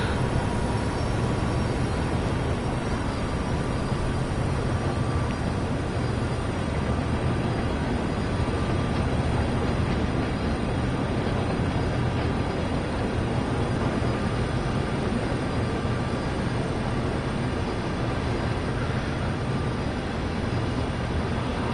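Diesel locomotive engine under heavy throttle in Train Sim World 2, hauling aggregates: a steady, loud low rumble with a constant droning mechanical hum throughout, no voices.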